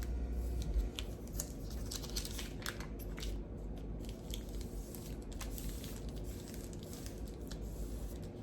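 Scissors trim paper to fit a card, a run of short crisp snips and rustles close by, fairly quiet and without talk.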